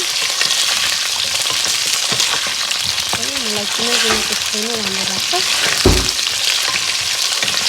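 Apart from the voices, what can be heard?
onions frying in a pan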